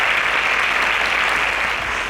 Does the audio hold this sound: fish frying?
no